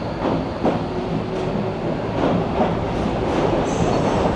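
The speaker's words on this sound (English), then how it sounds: "I'm trying to get a shot of one of these funny little trains." A driverless DLR light-rail train passing in London, a loud continuous rumble and rattle of wheels on track with faint higher squeals, steady for several seconds and close by.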